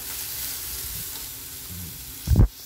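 Mustard seeds in hot oil sizzle softly and steadily for a tempering, then a brief louder crackling burst flares up near the end before settling.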